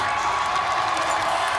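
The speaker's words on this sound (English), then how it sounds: "the Canadian giving the home crowd something to cheer about here" A home crowd cheering at a track cycling race in a velodrome, a dense continuous roar of voices and shouts, loud and sustained throughout.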